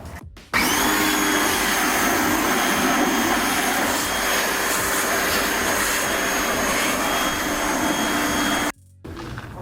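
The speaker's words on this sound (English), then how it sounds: "Let's degrease everything." Degreaser sprays onto BMW E46 drivetrain parts (flex disc and center support bearing) as a loud, steady hiss. It runs unbroken for about eight seconds, then cuts off abruptly.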